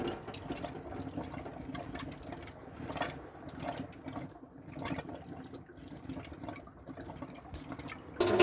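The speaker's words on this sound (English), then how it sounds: "it's gurgling a bit at the moment, so there's a bit of air in there still" Inside a 2023 Coachman Arcadia Xtra 630 caravan, a water tap splutters and gurgles with air still trapped in the pipes. Irregular drips and spurts sound quietly and close, with a louder burst at the very end.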